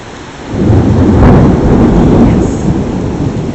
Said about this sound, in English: Please be good thunder.